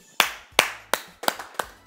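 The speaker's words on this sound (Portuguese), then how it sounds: "Uma salva de palmas para o nosso querido André Dias" Applause for André Dias on a Brazilian stock-market talk show, heard as five sharp, separate claps at an even pace with brief gaps between them, close and moderately loud, with no talking.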